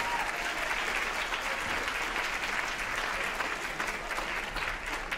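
A classroom audience gives a sustained round of applause for the presenters at a school writers' week event, dense steady clapping filling the whole stretch without pause.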